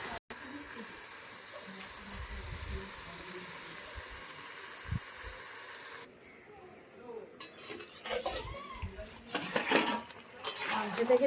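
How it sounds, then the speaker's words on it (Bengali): Local goat meat is turned in a covered pot, giving clattering scrapes of a utensil against metal. A soft steady hiss runs underneath, then louder clanks and stirring bursts come toward the end, with no voice. "মিনিট 2 চাপা দিয়ে দেবো, চাপা দিয়ে দিয়ে ভালো করে মাংসটা কষিয়ে নেবো।"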